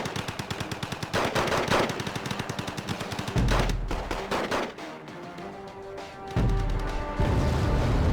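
Sustained machine-gun fire from the Red Dragon real-time strategy game, with rapid dense bursts, heavy low booms and crackling volleys rolling nearly continuously at loud, close range.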